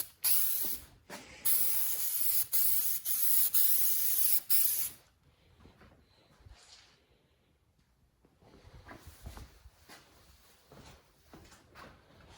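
A spray can sprays metal flake paint onto a car in several loud, close hissing bursts separated by brief gaps, then falls quiet with faint handling noises afterward.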